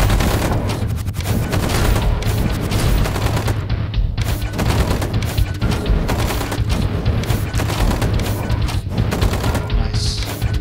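Constant loud gunfire and booms from a zombie defense tower video game, dense rapid shooting layered over a steady game soundtrack, with no talk.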